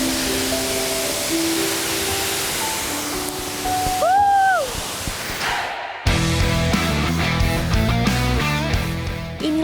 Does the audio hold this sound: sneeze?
no